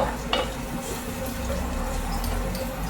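Onion sautéing in a pan while being stirred, a steady moderate sizzle with occasional utensil scrapes and a low background rumble, no one speaking.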